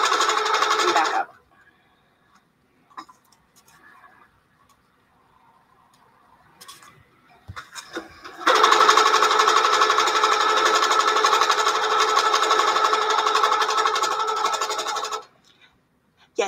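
Sewing machine stitching a quilted feather design, with a short whir, a long quiet pause with faint handling sounds, then a loud, steady, close mechanical hum for about seven seconds before stopping abruptly.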